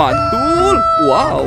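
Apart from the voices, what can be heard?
rooster crowing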